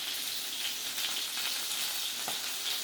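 Steady crackling sizzle of chicken or pork chops frying in a pan for marsala, with a few sharper pops rising out of the hiss.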